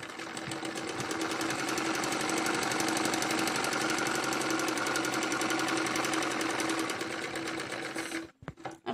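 A sewing machine stitches a fancy baby dress, running in a fast, steady mechanical chatter for several seconds before stopping abruptly with a couple of clicks at the end.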